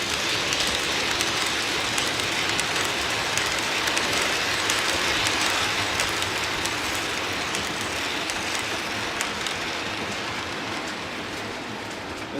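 Continuous rolling rumble of model trains running slowly on track, with steady clicking and rattling, no voices.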